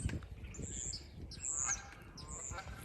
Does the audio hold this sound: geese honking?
yes